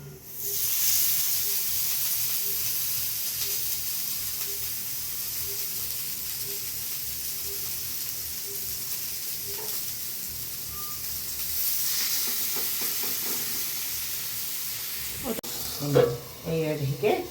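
Gourd leaves stuffed with small fish frying in oil, a continuous soft sizzle and hiss throughout, with some clattering and voice-like sounds toward the end.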